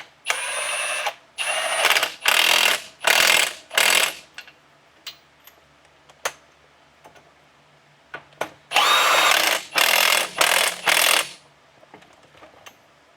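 Bolts on a Ford F-150 Belltech lowering kit are tightened with a power tool in loud, sharp bursts of one to two seconds, two clusters of four or five separated by quieter clinks, close up.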